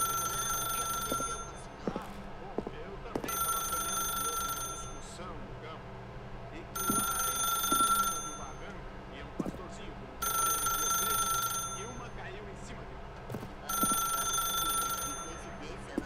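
In The Stanley Parable, a telephone rings in five evenly spaced bursts of a bright electronic trill, fairly quiet, while a narrator speaks calmly throughout.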